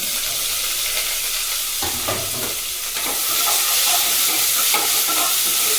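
Chopped onions fry in a pan, giving a continuous loud sizzle with occasional stirring scrapes, close and unbroken, with no voices.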